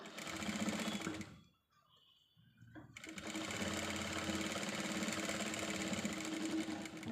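A sewing machine stitches fabric for a pencil pouch, running in a steady fast whirring rattle, stopping briefly for a quiet pause, then resuming at full speed close by.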